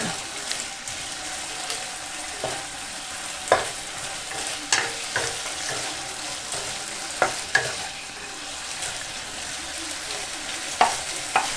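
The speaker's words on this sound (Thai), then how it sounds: "ตัวของกุนเชียงเริ่ม พองแล้ว น้ำเริ่มจะหมดแล้วนะคะ ที่เหลือก็จะกลายเป็นส่วนที่เป็นน้ำมันนะคะ" Chinese sausage frying in its own rendered pork fat as the water cooks off, a steady close sizzle broken by scattered pops and crackles, with occasional stirring clicks.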